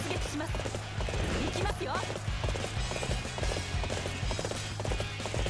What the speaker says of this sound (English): we're riding Chin, as you can see. There's the horse we made earlier.